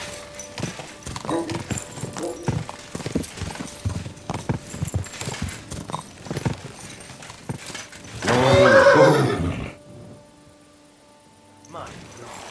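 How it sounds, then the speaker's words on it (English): Hooves clip-clop in a steady rhythm in Kingdom Come: Deliverance II, a medieval action role-playing game, with voices talking over them, then a loud horse whinny rises near the end before a short quiet gap. "My God, that looks like a bloody expensive horse."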